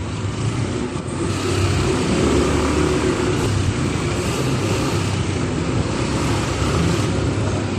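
Dense road traffic on Makati Avenue, a busy city street full of stoplights, forms a steady, loud wash of engine rumble and tyre noise that continues without a break and without any voices.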